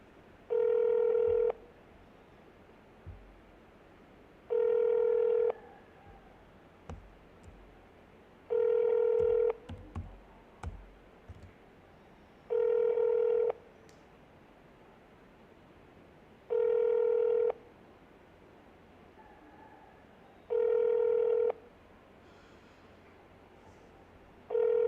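An unanswered phone call rings out seven times, each ring a steady tone about a second and a half long with even gaps between them. Faint clatter and rustling are audible in the pauses.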